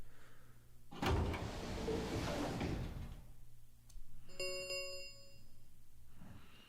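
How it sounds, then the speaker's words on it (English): Metal warehouse doors grinding shut in a video game: a heavy clang, then a long loud grinding roar that fades, followed by a ringing metallic tone and low mechanical hum. "Suddenly, the warehouse was filled with the groan and clang of metal doors grinding shut."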